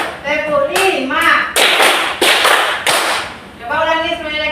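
Schoolchildren standing for stretching clap hands in a counted sequence, four or five loud, sharp unison claps broken up by a teacher and pupils speaking, in a reverberant classroom.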